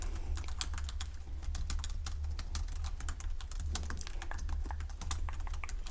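Fingers type on a computer keyboard in a soft, steady run of closely spaced key clicks, heard up close and quiet, with a constant low hum beneath.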